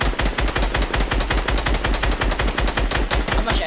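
Rapid automatic gunfire from a shooter video game, loud and continuous bursts of machine-gun shots firing in steady rhythm without talk.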